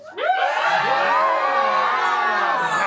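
A comedy club crowd erupts in loud cheering and whooping, a dense wall of voices that rises quickly and holds steady with no single speaker audible.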